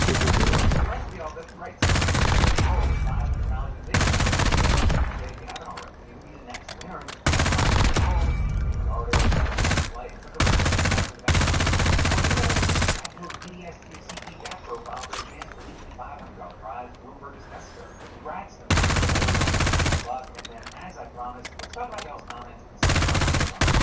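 Bursts of automatic rifle fire from an AK-style weapon in the shooter game Warzone crackle in loud, sustained volleys separated by short gaps, with talking heard between them.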